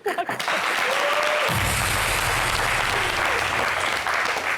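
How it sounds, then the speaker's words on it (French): A studio audience on a French entertainment show breaks into loud, sustained applause after a brief sound at the start, and the clapping continues evenly to the end of the clip. "Oh, d'accord, on applaudit."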